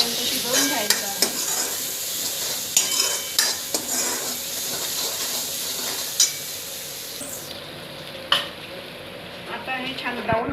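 Onion frying with ginger-garlic paste in a hot pan, a steady close sizzle under scattered scrapes and clinks of a spoon stirring against the metal.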